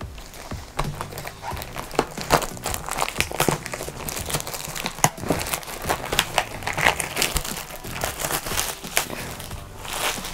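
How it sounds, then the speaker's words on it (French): Pokémon card booster packs of the XY9 set are torn open and unwrapped close up, with continuous crinkling and crackling foil and scattered sharp rips throughout. "on va déballer tout de suite les 18 premiers boosters."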